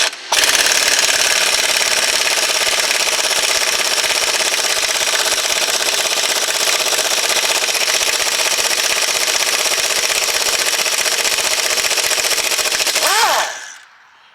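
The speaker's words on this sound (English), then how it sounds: "we can just undo these two bolts to actually just release the shock, to take the shock out" Impact wrench or air gun undoing the rear shock absorber bolts on a Fiat Doblo in a garage, a loud continuous rattling hammer lasting over ten seconds before cutting off abruptly, with no talking.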